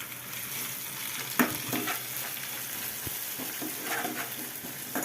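Ginger garlic paste being stirred into chicken keema in a hot pan, with a steady sizzle and frying hiss throughout and a few scraping spoon strokes against the pan.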